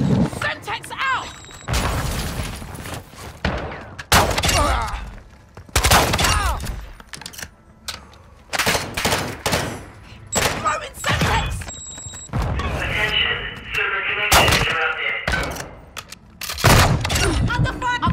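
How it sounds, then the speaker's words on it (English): Video game gunfire in a squad firefight: repeated bursts of shots and heavy booming impacts, loud and close, crackling in clusters, with voices calling out between them. "You are taking effective fire."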